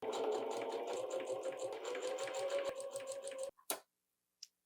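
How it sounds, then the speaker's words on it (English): A sewing machine runs a zigzag stitch along the side seam of a top, a close, steady whirring with rapid rhythmic ticking for about three and a half seconds, then stops, followed by a couple of faint clicks. "it's just time to do my zigzag stitch for this side"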